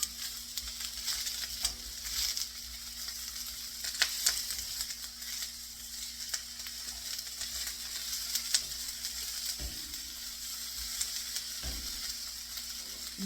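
Bean sprouts frying in a hot pan, giving a steady close sizzle with crackling pops and a few stirring clatters; no talking.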